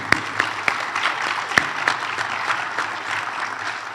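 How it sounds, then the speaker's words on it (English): Conference audience applause at a DakotaCon 2024 security conference session, a steady wash of many hands clapping with a few sharp louder claps standing out, sustained evenly throughout. "let's just give a round of applause for everybody else"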